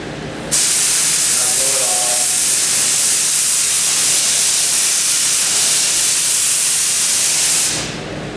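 A steady, loud rush of blown air starts abruptly and keeps hissing for several seconds while epoxy is wiped, then fades out near the end.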